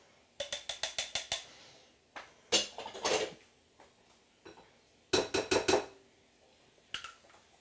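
A food processor blade is pulled off and handled, producing bursts of rapid, crisp clicks and clinks in quick clusters, separated by short quiet pauses, close and fairly soft.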